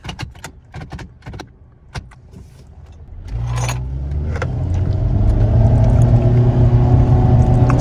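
A 2015 Nissan Rogue with a 170 horsepower engine pulls away: early clicks and handling noises give way to a steady, rising engine and road drone that builds and holds loud near the cabin, no talking.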